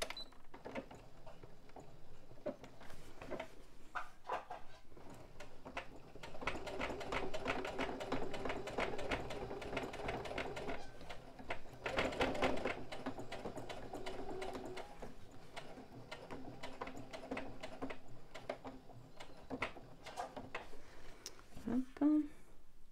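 A sewing machine stitches a pocket onto a tote bag in steady rapid runs with short pauses, close and clear, while someone talks quietly in French at times.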